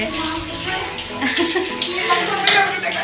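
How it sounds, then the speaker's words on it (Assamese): Dishes being washed in a hostel kitchen: running water from a tap splashes and clatters over pots and plates in uneven bursts, close by, with a voice talking over it. "এইফালে বাচন ধুই আছে"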